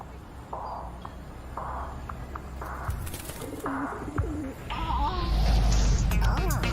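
Pigeons coo in a video game trailer, with soft repeated low coos over a steady background ambience, followed by a swelling musical sound toward the end while a voice talks over it briefly.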